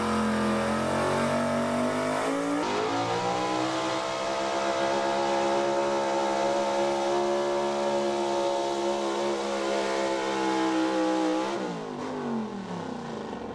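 A gas four-wheel drive pulling truck revs hard at an outdoor truck and tractor pull at a mechanic shop, its engine a loud, sustained, steady roar that holds for about ten seconds before easing off, with no talk over it.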